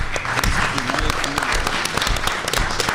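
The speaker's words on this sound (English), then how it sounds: "Give them a big round of applause." An audience claps in a government hearing room, with steady applause filling the three seconds and voices mixed in underneath.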